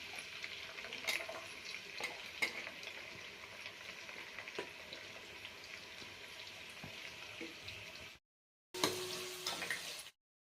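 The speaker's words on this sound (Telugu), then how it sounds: "ఈ ఆయిల్ అయితే వేడైపోయిందండి. ఇంకా ఆనియన్, పచ్చిమిర్చి అండ్ కరివేపాకు వేసేస్తున్నాను." Chopped onions, green chilies and curry leaves frying in hot oil in a pan, making a loud, continuous close sizzle that breaks off briefly near the end before starting again.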